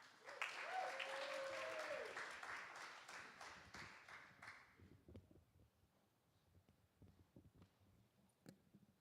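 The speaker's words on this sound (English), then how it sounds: "Round of applause" An audience at a poetry slam preliminary round at a verses festival applauds a poet coming to the stage, loud dense clapping for about four seconds that thins and fades, with a voice beginning to talk as it dies away.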